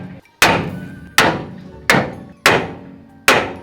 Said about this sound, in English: you need to hit it harder. You're choking up the hammer.